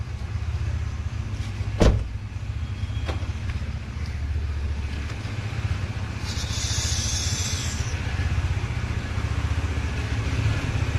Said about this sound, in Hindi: गाड़ी को वार्म अप करने रखा है।